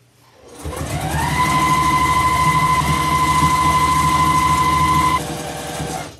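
Sewing machine top stitching around the edge of a reversible criss-cross apron, a steady close whirring hum that starts, runs evenly for about four seconds and then stops, with no talk.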